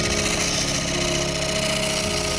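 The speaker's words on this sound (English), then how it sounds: "I shall just continue hollowing the bowl out now. At 800 RPM." A wood lathe spins at 800 RPM while a bowl is hollowed, giving a loud continuous mechanical hum and whir with a steady low drone and a slight change in tone near the end, no talking.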